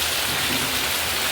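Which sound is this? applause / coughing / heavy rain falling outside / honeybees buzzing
heavy rain falling outside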